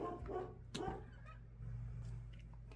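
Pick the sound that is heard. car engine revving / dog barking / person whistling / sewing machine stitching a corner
dog barking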